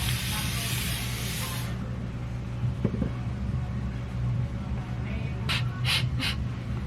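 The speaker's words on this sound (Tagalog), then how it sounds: "So, I have here my facial spray." A handheld facial mist spray releases a loud, close, steady hiss for under two seconds, then a quiet room, a faint click and three short spray bursts at the end.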